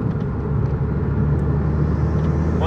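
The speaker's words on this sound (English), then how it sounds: "Oh man, you just get so much turbo noise from it." Inside a moving Vauxhall Corsa VXR, the engine and turbo produce a steady, loud, low rumbling drone with a faint rising whoosh near the end.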